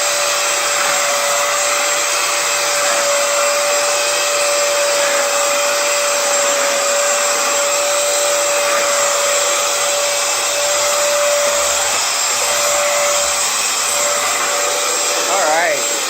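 A Hoover FloorMate Edge floor cleaner runs a dry pass, giving a steady, loud motor whine and airflow roar that holds constant throughout with no talk.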